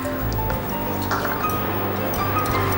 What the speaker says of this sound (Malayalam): നമ്മളിപ്പോൾ ഒരു 1/2 കപ്പ് ചൂടുവെള്ളം കൂടി ഒഴിക്കുകയാണ്.